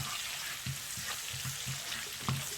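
Quiet, continuous sizzling of dal with chili frying in a pan, with soft irregular crackles and pops scattered throughout.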